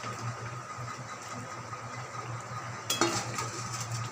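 Green banana kofta balls cooking in a pan with potatoes give a steady, soft sizzle and bubbling, with a brief clatter of utensils near the end and no talking.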